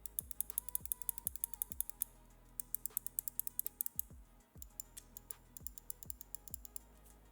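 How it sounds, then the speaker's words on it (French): Button clicks of a Glorious Model O2 gaming mouse, a close, crisp run of rapid clicks in quick bursts separated by short pauses, alone and quiet. "Je vais vous faire écouter un petit peu les clics."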